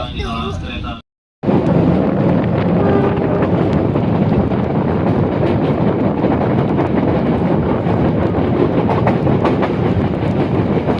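Loud, continuous rumble and rhythmic clatter of a passenger train running from Bogor toward Garut through Bandung as it prepares to stop at Nagreg station, Indonesia's highest. Wind buffets the microphone, and there is a brief silent break near the start.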